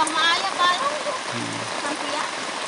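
Light rain patters steadily on a palm sugar hut in a village in Matenggeng, a soft wash of drops beneath nearby voices chatting.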